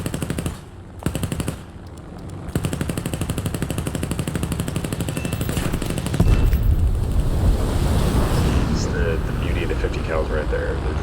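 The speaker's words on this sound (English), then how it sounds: "They're just absolute bullet hoses. Just hold the trigger down and go to work." An F4U-1A Corsair's machine guns fire in War Thunder, rattling in long continuous bursts with a brief pause near the start, over steady wind and engine noise.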